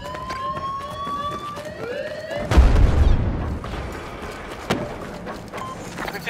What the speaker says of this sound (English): Bravo blown up!